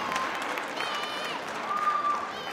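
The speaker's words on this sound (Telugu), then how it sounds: "please give them a big hand అండి బిగ్ క్లాప్స్" Audience applause at a Sankranthi ladies dance event, a sustained patter of many hands clapping in a hall, moderately loud, with faint tonal sounds and crowd murmur underneath.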